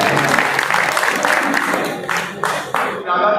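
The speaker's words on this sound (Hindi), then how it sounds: "सादिक भाई के लिए जोरदार तालियां" A crowd at a labourers' meeting in Malegaon breaks into applause for a speaker named Sadiq; broad, sustained clapping from many people fades out in a few closing claps.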